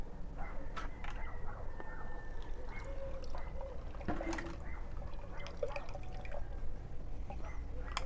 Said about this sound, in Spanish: Echamos un poco más de agua para sacar todo el nutriente.